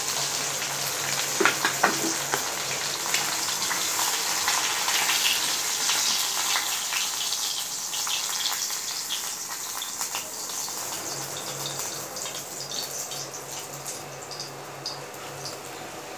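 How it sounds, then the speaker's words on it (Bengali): Fish frying in hot oil in a kadai until red and crispy, giving a continuous bright sizzle and hiss with a few sharper pops early on, close and steady. "এভাবে লাল লাল করে মচমচে করে মাছটা আমি ভাজি নিচ্ছি"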